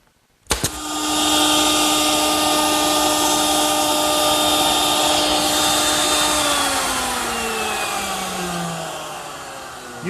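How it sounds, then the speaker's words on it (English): A router fitted with a half-inch radius cove bit cuts Scotia molding in wood, a loud, close, high-pitched whine that spins up abruptly and holds steady, then drops in pitch as the cut finishes and the motor slows. "Using a 1/2-inch radius cove bit, I've made the first pass to create the Scotia molding"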